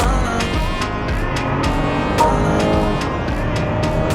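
A long-wheelbase BMW 5 Series accelerates hard in boost mode at full pedal, its engine a loud, continuous, close drone holding strong throughout without a break.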